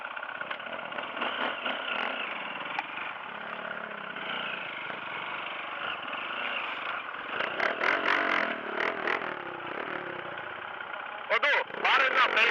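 Husaberg 350FE and 250TE dirt bikes and a Honda CRF230 running on a mountain trail climb, engines droning steadily throughout with revving bursts near the end, riders talking over the noise.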